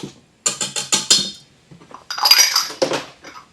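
A whisk rattles quickly against a bowl mixing baking powder, salt and dry ingredients for a gluten-free raspberry layer cake, bright metallic clinking in two rhythmic bursts separated by a short pause, close and alone.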